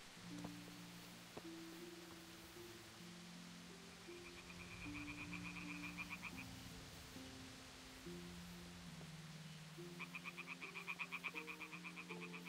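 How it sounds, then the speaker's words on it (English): Frogs croak in the video game Kingdom Come: Deliverance, steady low tonal croaks in a quiet night ambience, joined by bursts of rapid higher-pitched trilling calls. "that a frog making that noise?"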